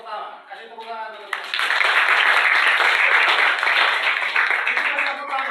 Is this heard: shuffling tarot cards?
no